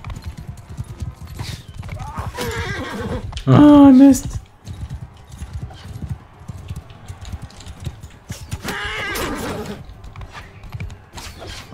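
Horse hooves clip-clop at a gallop in the medieval combat game Mount & Blade II: Bannerlord, with a short loud whinny midway, amid battle clatter while someone talks over it.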